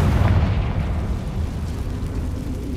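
A Confringo fire spell explodes in the Hogwarts Legacy video game, a loud low booming blast with rumbling bursts that stays dense and heavy for the whole stretch, with no talk.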